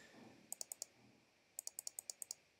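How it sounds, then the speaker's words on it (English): A computer mouse is clicked while editing a decal image on a computer. Faint, crisp clicks come close together, a quick run of four, then after a pause a longer run of eight in the quiet. "So I can double click on it"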